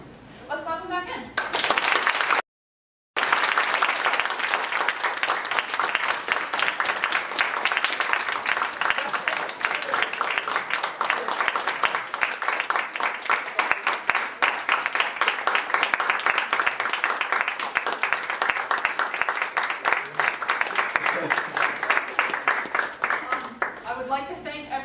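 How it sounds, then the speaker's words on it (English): An engineering society annual general meeting audience claps members back into the room, a long sustained run of dense clapping with a brief gap near the start, fairly loud and close. "Let's clap them back in."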